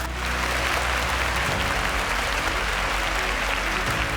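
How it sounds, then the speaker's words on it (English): A studio audience at a quiz competition applauds in a loud, dense burst of clapping over a low musical hum, steady throughout. "A round of applause for that."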